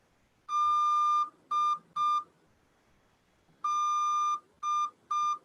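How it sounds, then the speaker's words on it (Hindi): Morse code letter D sent twice as clean electronic beeps, each group one long tone followed by two short ones, loud and clear against near silence with a pause between the groups. "वन डैश यानी कि one long beep and to short beeps"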